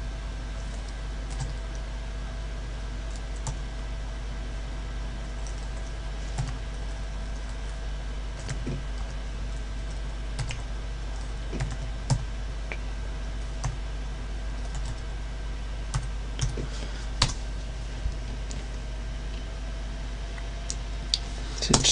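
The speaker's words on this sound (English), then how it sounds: "I'll quickly just type this in." Rapid typing on a computer keyboard, quiet irregular clicks of keys over a steady low hum from the room or machine, with no voices.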